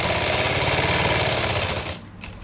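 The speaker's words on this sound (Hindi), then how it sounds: "अपने इलास्टिक को इस तरह से खींचते हुए जाएंगे और इसके बीच में हम सिलाई लगाएंगे इस तरह से।" An electric sewing machine runs a steady, fast mechanical stitching whir while sewing elastic onto a dhoti salwar, loud and close, then abruptly stops near the end.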